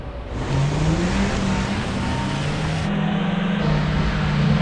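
A car engine revs hard and holds high, its pitch climbing through gears in a loud, continuous drone close to the microphone.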